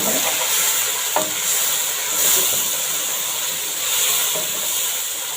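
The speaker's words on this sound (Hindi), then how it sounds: "इसको भूनते हुए हम इसमें डालेंगे बाकी स्पाइसेस" Beef with spices fries and is stirred in a pot, a steady close sizzle and hiss running throughout, with occasional scrapes and clinks of the spoon against the pot.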